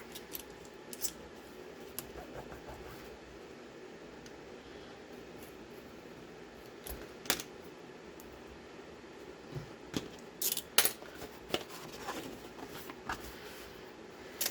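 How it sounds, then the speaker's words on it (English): A craft knife slices a tab off folio board, giving faint scattered scrapes and a few sharp cutting clicks over a quiet room hum, no voices. "Again, with the craft knife, cut the tab off."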